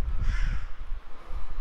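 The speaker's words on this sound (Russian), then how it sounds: "Ворона где-то орёт." A single crow caws hoarsely once, fairly near, then the air settles into quiet outdoor ambience.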